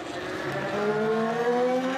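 Race cars at the 24 Hours of Le Mans scream past at speed as green flag racing resumes, high engine notes rising sharply in pitch across two seconds, loud and close with no voices.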